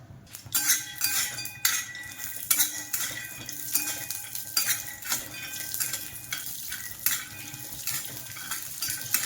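Almonds roast in ghee in a pan over low heat, a spoon scraping and stirring with repeated metallic clinks over a faint sizzle, close and uneven in rhythm.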